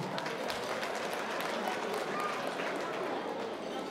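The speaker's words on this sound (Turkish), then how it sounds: "bugünkü düğüne bir güzel alkışlar gelsin" Dense, steady applause from wedding guests fills the room, a loud unbroken clatter of many hands with crowd murmur mixed in throughout.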